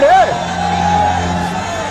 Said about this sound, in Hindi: बड़ी संख्या में लोग पहुंचे थे कमलनाथ की जनसभा के दौरान।